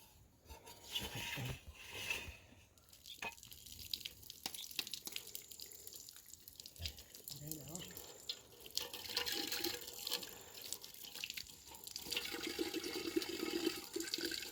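Tap water runs and splashes on and off outdoors in a rural Nepali village, with scattered drips and clatters, fairly quiet and close.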